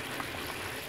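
A cup of water pours into a pot of frying curry, a brief, quiet, steady rush of liquid.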